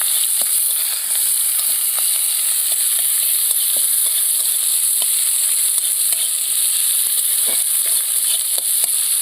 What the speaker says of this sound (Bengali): পেঁয়াজগুলো ভালো করে লাল লাল করে ভেজে নেব